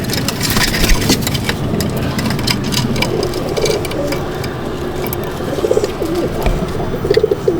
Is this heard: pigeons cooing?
yes